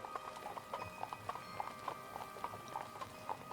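Horse hooves clip-clop in a steady trotting rhythm as a tabletop role-play sound effect, the even mid-close hoofbeats playing alone under a faint ambient background.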